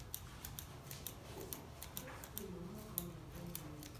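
Scissors trim rough parts of hair for butterfly locs, a quiet series of sharp, evenly spaced snips repeating about every half second, close and alone with faint room noise.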